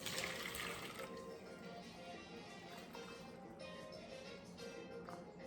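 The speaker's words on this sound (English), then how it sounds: "Now I'm going to add my 4 cups of water." Water pours steadily and softly into a pot, a continuous faint splashing rush with no talking.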